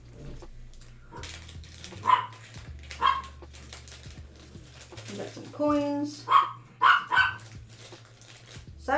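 A dog barks at cats indoors in a few sharp bursts and yips, mid-distance, between and under a person's casual talk during a board game unboxing.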